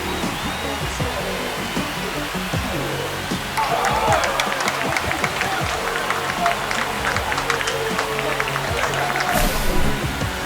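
A stadium crowd in MLB The Show 25 roars after a home run in a Pirates-Dodgers game, a broad wash of cheering that swells partway through and stays loud and sustained.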